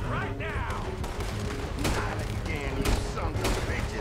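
Revolver shots ring out in a Red Dead Redemption 2 shootout near a bank money wagon, several sharp reports spaced over a few seconds amid steady game ambience and a voice talking.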